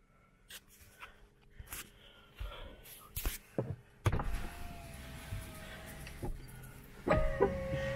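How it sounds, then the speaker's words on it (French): A Tesla Model 3 power window motor hums as the glass slides shut automatically, following scattered clicks and thumps, with a final whirr and clunk near the end. "La voiture se ferme d'elle-même, le carreau s'est refermé."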